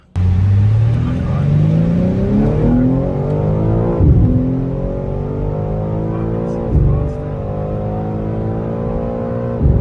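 An expensive car is driven hard on a dealership test drive. Its engine revs loud and close, climbing in pitch through the gears, with brief shift breaks near four and seven seconds.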